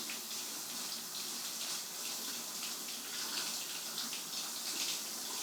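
A bathroom or kitchen tap in Tucson runs steadily as a sugar scrub is rinsed off the hands, a soft, even splashing rush with no talk.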